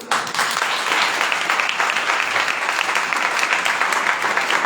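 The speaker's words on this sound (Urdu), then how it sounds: "یسوع مسیح کے جلال میں کتنی زوردار تالی بجا سکتے ہیں۔" A church congregation claps continuously and vigorously, a steady dense roar of hands filling the whole stretch without pause.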